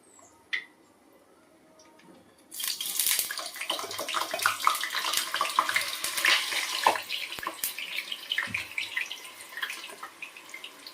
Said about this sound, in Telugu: నీళ్ళు మొత్తం ఇలా వాటర్ అంతా తీసేయాలి స్ట్రైనర్తోని